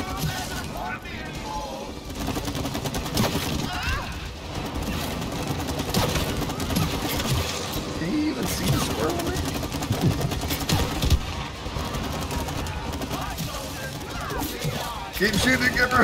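Rapid gunfire in the It Takes Two co-op game, aimed at a chain during a fight with a rhino beetle mercenary, rattles on continuously over a busy game soundscape, with people talking throughout.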